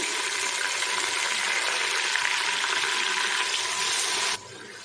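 Ginger and garlic frying with onions in a pan, a loud continuous hiss of hot oil that holds steady for several seconds, then drops off sharply near the end.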